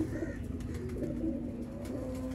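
Sialkoti black-faced pigeons coo softly and continuously close by, a low steady murmur of repeated calls with no talking.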